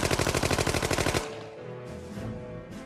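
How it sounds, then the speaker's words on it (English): A Colt Thompson submachine gun, the Tommy gun, fires a rapid sustained burst of about a dozen sharp, evenly spaced shots, then stops abruptly and leaves a quieter tail. "the Tommy gun was the perfect criminal weapon"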